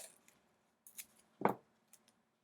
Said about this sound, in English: I'm going to use my scissor here to just cut and trim some of that tape